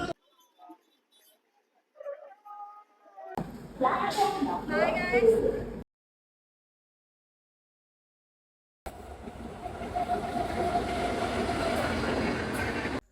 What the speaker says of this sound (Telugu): ప్రజెంట్ మనం తుని రైల్వే స్టేషన్లో అయితే ఉన్నాం